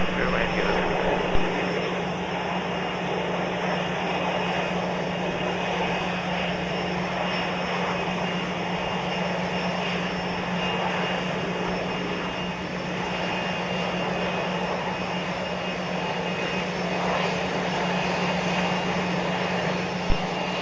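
Propeller aircraft engines drone steadily at Spirit of St. Louis Airport, a continuous even hum with a fixed tonal whine.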